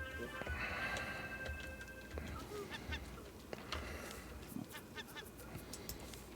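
A bird squawks and honks in the survival video game Raft, with loud, repeated cries in the first half that fade into scattered calls over a steady ambient bed, while a voice talks.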